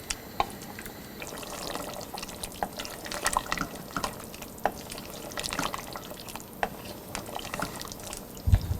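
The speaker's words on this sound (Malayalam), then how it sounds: "തിൻ കോക്കനട്ട് മിൽക്ക് അഥവാ 2ാം പാൽ ഒഴിച്ച് ഇതുപോലെ മിക്സ് ചെയ്യുക" Thin coconut milk is poured into a mutton stew and stirred over a medium flame, soft liquid sloshing with scattered spoon clicks and drips, quiet and close, with no talking.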